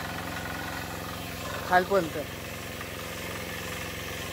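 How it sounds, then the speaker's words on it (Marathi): A tractor engine idles with a steady low throb on a farm during rice planting season, running continuously while someone speaks briefly partway through. "आता हा ट्रॅक्टर एवढा घेऊन जायचा आहे बघा."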